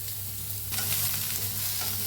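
Sliced onion frying in a kadai as it is stirred, a steady close sizzle with soft scraping of the stirring, louder after the first moment and continuing without speech.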